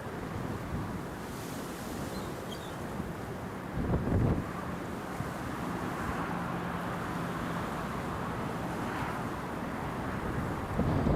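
Wind gusts at an airport during Storm Isha in January, a loud continuous roar buffeting the microphone with no one talking.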